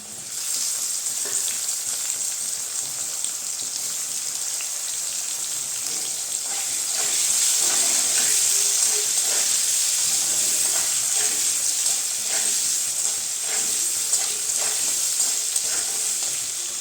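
Radishes and cut potatoes fry in a pan for a Bengali fish-and-vegetable curry, giving a steady, bright, close-up sizzle and crackle that swells a little midway and carries on without a break.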